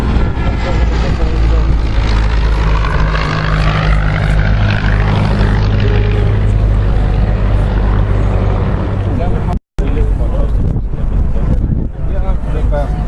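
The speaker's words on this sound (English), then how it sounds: "Ci sono gli aerei che sono già presenti davanti" Aircraft at the Duxford air show drone and roar over wind-buffeted outdoor sound, engine tones rising and shifting as planes pass, broken by a brief dropout near the end.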